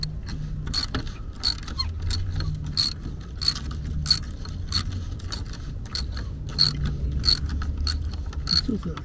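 Small ratchet wrench clicking on a Duramax LP5 fuel filter, a string of quick metallic ratcheting clicks and scrapes in bursts, close and fairly loud over a low hum.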